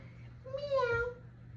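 A person mimics a cat's meow during a yoga class, a single drawn-out, rising and falling vocal meow, fairly quiet against a low background hum.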